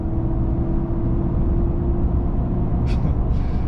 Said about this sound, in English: It's weird having tire noise as well.